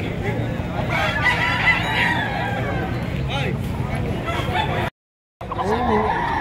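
Gamefowl roosters and chickens at a fair in Padre Garcia crow in drawn-out calls over clucking and a busy crowd babble, with voices talking nearby; the sound cuts out briefly near the end.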